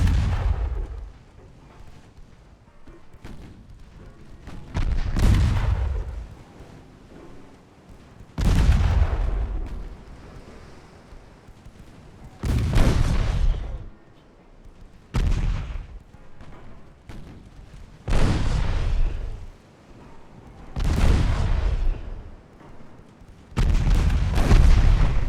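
Naval secondary guns firing in the Ultimate Admiral Dreadnoughts video game: about seven heavy booming salvos, one every three to four seconds, each rolling and fading, with no talk.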